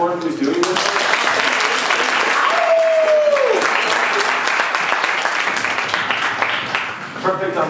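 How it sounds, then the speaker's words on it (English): Studio audience applause during a late-night election special broadcast, loud sustained clapping from a crowd with a brief tonal whistle-like sweep partway through, fading slightly toward the end. "Can we clap for everyone who's doing this?"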